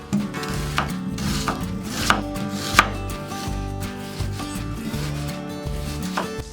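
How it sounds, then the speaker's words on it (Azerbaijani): A large onion is chopped on a board with a knife, the blade striking in quick, steady, close-up rhythm with a few sharper hits and no talking, while preparing yarpaq khingal. "Sonra bir iri soğanı doğrayıram."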